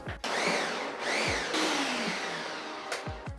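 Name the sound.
blender mixing pineapple habanero hot sauce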